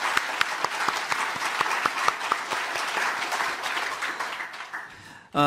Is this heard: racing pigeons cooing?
no